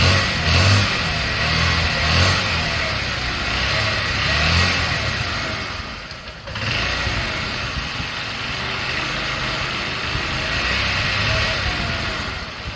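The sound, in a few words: 2003 Honda Elite 80 scooter engine running, throttle held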